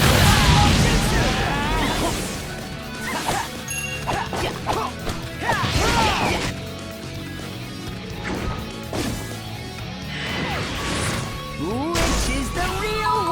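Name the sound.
fire style jutsu attack in video game Naruto Ultimate Ninja Storm 4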